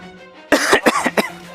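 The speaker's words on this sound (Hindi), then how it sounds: "और पूरे दिन खांसते रहते हो" A sick man coughs several times in a quick, harsh burst, close and loud, with a throat-clearing quality, inside a rural Indian home.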